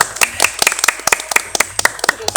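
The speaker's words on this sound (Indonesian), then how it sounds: "Boleh minta tepuk tangan buat HMPS kami." Scattered applause for the HMPS team comes in quick, sharp individual claps from a small group, close and uneven, fading toward the end.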